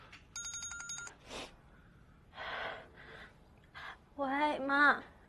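A telephone rings indoors with a short electronic trill, followed by breaths and bursts of talk from people in a drama scene.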